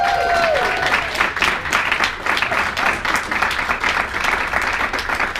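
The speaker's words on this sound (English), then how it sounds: "Please give me a huge round of applause" Steady applause from a crowd at a PlanNet Marketing live event in London, continuous and moderately loud, with a brief tone at the start.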